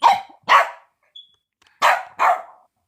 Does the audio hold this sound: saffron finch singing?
no